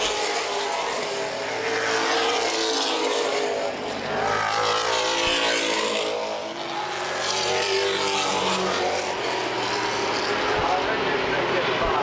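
NAPA Late Model race cars roar past at Baer Field Speedway in 2012 in a continuous loud engine drone that swells and fades as the pack circles, with commentary running over the noise.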